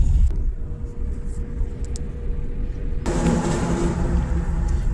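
A car engine rumbles during a driving lesson, steady and fairly loud, then rises into a brighter, stronger acceleration for the last couple of seconds.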